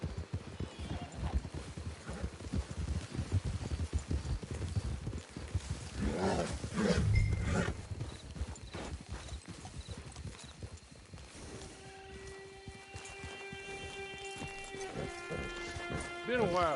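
Horse hooves clip-clopping in Red Dead Redemption 2, a steady rhythmic trot of hoofbeats that carries on under the game's sounds. A brief snort or whinny cuts in partway. Sustained musical tones rise toward the end.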